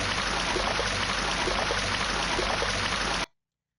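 Water pours from a freshly opened tap in a steady, loud rushing stream that cuts off abruptly at the end, with no talking.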